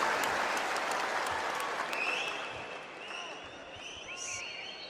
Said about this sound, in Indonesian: Tepuk tangan dulu dong untuk Mas Ganjar, Capres calon Presiden PDI Perjuangan